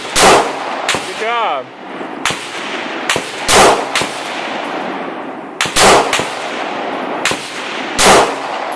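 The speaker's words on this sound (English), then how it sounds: "Squeeze the trigger." Pistol shots from a CZ 82 and a Glock 19 at an outdoor target, about nine sharp loud reports spaced irregularly, with brief talk between the shots.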